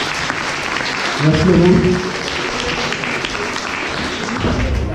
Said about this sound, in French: On l'applaudit bien fort, bien sûr.